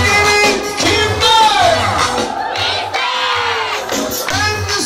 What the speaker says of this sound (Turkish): Alkışlar gelsin bakayım